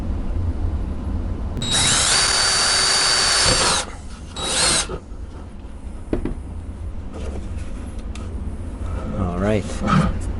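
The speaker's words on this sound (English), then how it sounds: "I'm going to drill a small pilot hole, just to give my bigger drill a reference point" A power drill whirs loudly for about two seconds while drilling a small pilot hole for a battery box build, stops, then gives a short second burst, followed by quieter handling noises and clatter.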